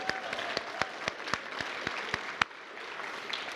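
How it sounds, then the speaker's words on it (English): A crowd gathered for a celebration event applauds, a mix of scattered claps with a few sharp, loud nearby claps standing out against steadier clapping in the background, tapering slightly toward the end. "round of applause for Human Resources."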